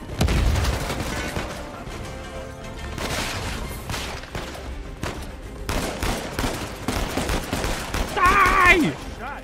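Gunfire and shotgun blasts in a firefight in the video game Uncharted 4, with dense bursts of shots and heavy booms, loud and close, continuing through the clip with a voice in the background.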